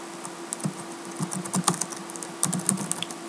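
Fingers typing a folder name on a computer keyboard, a close run of quick, uneven key clicks in short bursts with brief pauses, set over a low steady hum.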